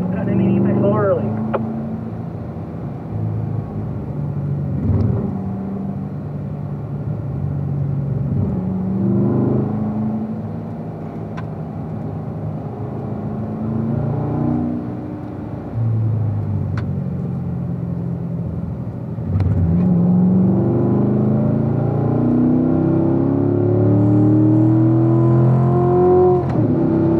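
A race car engine on a track, revving and pulling under throttle, its pitch rising and falling through corners then climbing steadily in a long close drone, with a voice coaching over it.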